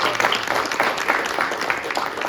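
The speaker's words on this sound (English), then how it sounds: "Let's give them a huge round of applause." Audience applause at a community event at a Nassau County legislator's office, a steady moderate wash of clapping filling the whole stretch without pause.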